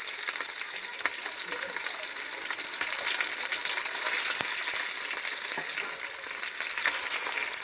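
Sliced onions and green chillies frying in oil for coconut rice, a loud, continuous bright sizzle with faint stirring clicks throughout and no speech.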